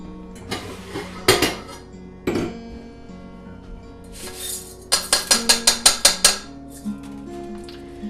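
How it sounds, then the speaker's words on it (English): Rinsed rice is placed into a pot with a string of clinks and knocks from cookware, a few scattered hits and then a quick rhythmic series of metallic taps, near and without talking. "we place it in a pot"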